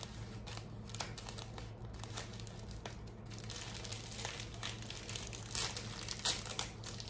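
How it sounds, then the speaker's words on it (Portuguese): Crinkly plastic wrapper and tape being peeled and unwound from a Kinder Minions Easter egg, with close, quiet rustling and crackling throughout and a few sharper crinkles near the end. "Ele já vem com uma fitinha praticamente solta, é só você puxar, só desenroscar assim"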